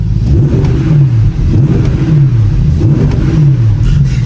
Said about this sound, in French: je vais faire écouter le son donc là avec avec les clapets fermés